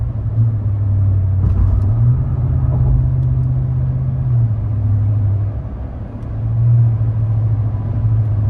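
A car fitted with a Flowmaster exhaust coasts, giving a loud, low, steady rumble that holds its tone, dips briefly near the end and swells back up, with no one speaking.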